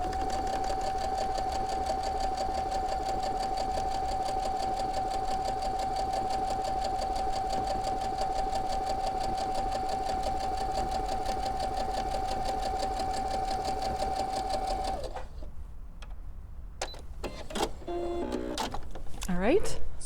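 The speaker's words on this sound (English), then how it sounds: "now I'm going to turn it around and sew the other side" Sewing machine stitching a quarter-inch seam through pinned fabric, a close, steady continuous whir for about fifteen seconds before stopping, followed by faint handling clicks.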